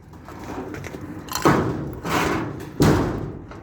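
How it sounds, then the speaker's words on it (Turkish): A pigeon coop door is worked open, giving a few loud wooden thumps and knocks close by with short scraping between them, while birds move and rustle inside the coop. "Kümesimizin kapısı da açılıyor ya."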